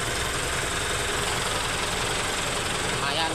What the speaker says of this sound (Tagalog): maingay sa loob ng transmission